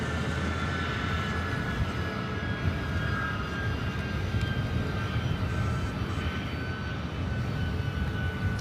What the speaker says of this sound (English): we got another 757 now pushing back as well